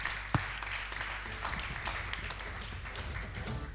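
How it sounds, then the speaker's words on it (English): Audience at a European venture capital trends panel applauding as a speaker comes on stage, a soft, distant patter of clapping after one sharp knock, steady and fairly quiet throughout. "Let's applaud her."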